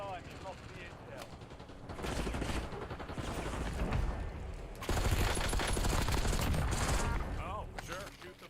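Video game gunfire rattles in dense automatic bursts, loud and continuous for several seconds with brief gaps, mixed with game sounds and spoken voices.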